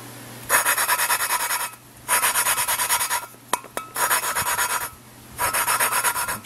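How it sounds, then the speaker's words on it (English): Rhythmic rasping strokes, like filing or sanding, during work on a 1993 Ford Ranger 4x4; four close bursts of quick back-and-forth scraping separated by short pauses, with a steady low hum underneath and no talking. "And you hear it kind of grinding like that."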